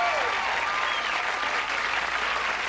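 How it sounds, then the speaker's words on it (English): A comedy club audience applauds in a dense, steady wash of clapping and crowd noise that holds loud and even throughout, with no talk over it. "That's way too much applause, really."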